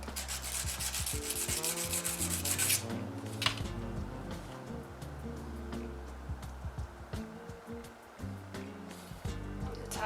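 A metal cross keychain is rubbed by hand against sandpaper, giving a steady run of close, loud scraping strokes with short pauses between passes, and no voices.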